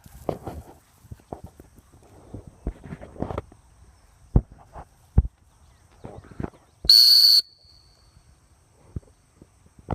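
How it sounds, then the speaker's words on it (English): One short, sharp hunt whistle blast sounds during retriever dog training outdoors, shrill and fairly close, amid scattered footsteps, rustling and faint background insects. "Y'all hear that hunt whistle?"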